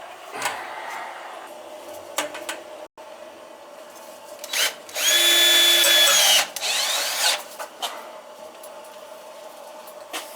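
A power drill drives half-inch screws while a 40-gallon gas water heater is installed: a brief whirring run of about a second, close and loud, amid quieter handling sounds and rustle.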